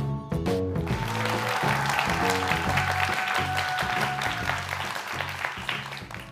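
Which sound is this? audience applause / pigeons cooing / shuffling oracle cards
audience applause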